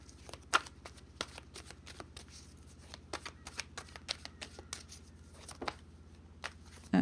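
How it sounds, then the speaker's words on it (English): Tarot cards being shuffled by hand in a run of quick, crisp riffles and flicks, fairly close and moderately loud, with a couple of sharper slaps standing out, and no talking. "And let's pull some cards for them."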